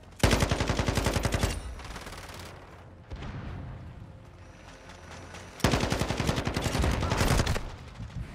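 Rapid automatic gunfire bursts from a video game, two long loud strings of fast shots separated by a quieter stretch of rumbling echoes and softer shots.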